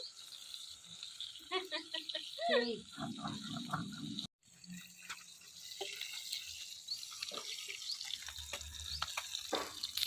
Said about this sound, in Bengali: মাছগুলো ভাজছে এখানে